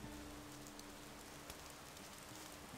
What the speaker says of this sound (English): The raining is not so great for us